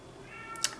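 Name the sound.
cat meowing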